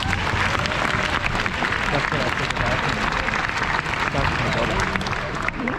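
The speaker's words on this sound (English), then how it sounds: "can I just give them a bit of a round of applause?" A room of people at a football club's presentation day gives a steady round of applause for a team, dense clapping running loud throughout while a voice speaks briefly over it.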